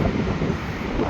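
Wind buffets a microphone outdoors near a mall, a constant low rumbling roar with no pauses, loud and close.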